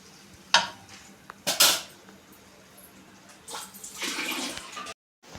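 Salted water for upma being stirred in a pot, with a few sharp metallic scrapes and clinks of a spoon against the pot and a softer sloshing swirl near the end, close and moderately quiet.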